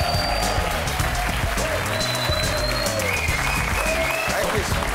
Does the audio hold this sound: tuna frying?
no